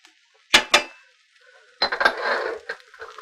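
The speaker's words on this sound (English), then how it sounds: "I'm just going to get that combined and get the seasonings on the potatoes and everything." Utensil scraping and clinking in a pan as seasoning is stirred into cooked potatoes, with two sharp knocks followed by a longer stretch of scraping and stirring, close and fairly quiet.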